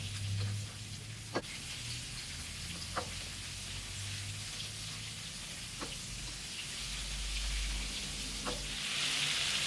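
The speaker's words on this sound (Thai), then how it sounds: "มาทอดกุ้งนะครับ" Shrimp frying in hot oil give off a steady, close sizzle and crackle that runs throughout, broken by a few sharp clicks, with no voices.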